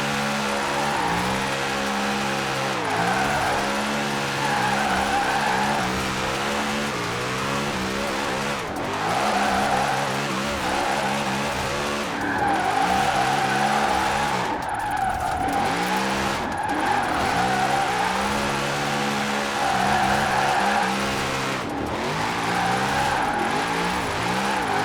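A Formula Drift car with extreme steering angle drifts through switchbacks in Forza Horizon 4, its engine revving up and down continuously while tires squeal in long wavering howls, loud and alone.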